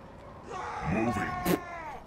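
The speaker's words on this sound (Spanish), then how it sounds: "Mira cómo grita." A game character in Total War: Warhammer 2 lets out a short, strained scream with a rising and falling pitch, a second sharp burst near the end, fairly close and clear over quiet background.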